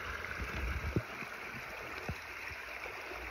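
A rocky riverside stream rushes steadily and close, a continuous hiss of water over stones with a few soft knocks and gurgles and no talking.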